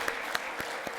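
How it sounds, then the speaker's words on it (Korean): Applause welcoming newcomers at a church service, a brief dense patter of many hands clapping together from a congregation. "환영의 박수 하시겠습니다"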